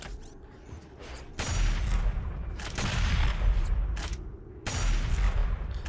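Weapon fire in the shooter DOOM Eternal bursts out in three loud, heavy volleys with rumbling, crackling tails and mechanical clanks in between.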